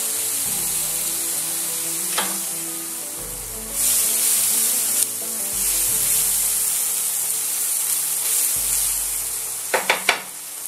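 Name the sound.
shallots frying in butter in a pan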